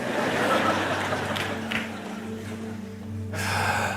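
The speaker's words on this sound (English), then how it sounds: "No, just I physically breathe." One deliberate deep breath drawn in during a sermon, a short airy gasp-like inhale followed by a rush of air, close and fairly loud over a low steady hum.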